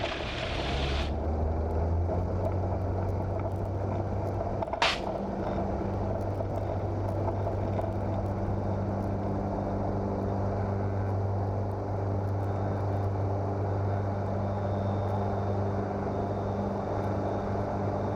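A light propeller training aircraft roars at takeoff power, a loud steady engine drone heard from inside the cabin that holds throughout with one brief click.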